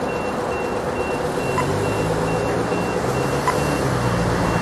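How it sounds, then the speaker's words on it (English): Australian pedestrian crossing signal: evenly spaced high beeps repeating at a steady rhythm over loud traffic noise from passing vehicles, moderately near. "pedestrian crossings that make noise"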